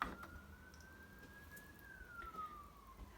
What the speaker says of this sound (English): Sorry about the siren you can hear in the background.